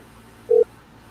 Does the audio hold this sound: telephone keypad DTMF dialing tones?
yes